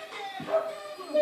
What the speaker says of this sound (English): Neighbor's dog.